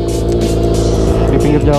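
Honda Supra motorcycle fitted with a loud aftermarket exhaust idles and revs close by at a roadside workshop, a harsh continuous engine drone with a brief throttle rise.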